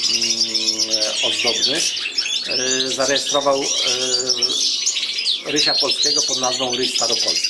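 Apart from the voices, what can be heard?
European goldfinches chirping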